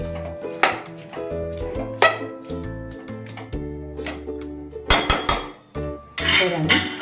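Metal lid set onto a pot of simmering ridge gourd curry in a Bengali home kitchen, giving several clanging, clinking knocks at intervals, with sharper metallic rattles near the end.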